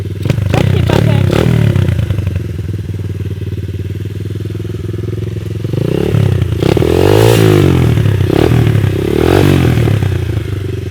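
A dirt bike engine runs loud and close, idling then revving up in a few rising bursts, with some clattering and scraping alongside.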